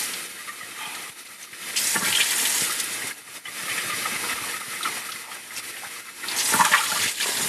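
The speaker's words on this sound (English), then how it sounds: "I'm going to rinse out our container." Water runs from a tap to rinse out a container at a lab slide stainer, a close hissing splash that swells and surges in bursts over several seconds.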